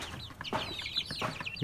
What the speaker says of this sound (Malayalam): ഇപ്പോൾ ഈ വീഡിയോ കാണുന്ന കോഴികളെല്ലാം നാടൻ കോഴികളാണ്.